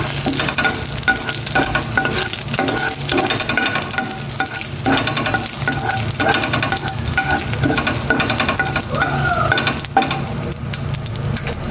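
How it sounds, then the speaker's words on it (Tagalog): Garlic sautés in coconut oil in a pan, a steady, loud frying sizzle with spoon-stirring scrapes running continuously throughout, no voices. "Nagisa na ako ng bawang."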